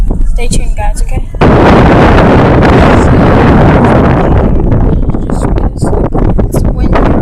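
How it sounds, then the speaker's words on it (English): Strong wind buffets the microphone outdoors on a windy day, a loud roaring rumble that surges and eases, with brief clicks and faint sounds before the gusts take over. "It's windy outside"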